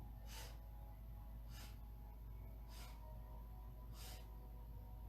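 Four evenly spaced sniffs in through the nose during a calm yoga breathing exercise, soft and close over a low steady hum, with nobody speaking.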